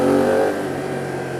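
A BMW F 900 R motorcycle engine revs up strongly, then settles into a steady, slightly lower drone, heard close and loud with no talk over it.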